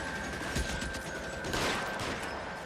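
Gunfire in LA Noire, dense rolling volleys of shots filling the scene at moderate distance over a constant noisy background, with no voices in between.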